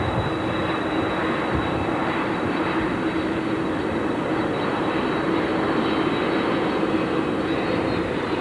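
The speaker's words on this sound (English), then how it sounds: "you're looking at live at President Clinton's plane, Air Force One, coming into McConnell Air Force Base" Air Force One, a presidential jet airliner, arriving at McConnell Air Force Base, heard as a steady, loud, broadband engine roar with a faint high whine that holds throughout with no talk.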